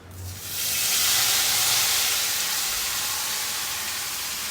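Marinated mutton drops into hot oil with a sudden sizzle that swells into a loud, continuous hiss, easing slightly as it goes on.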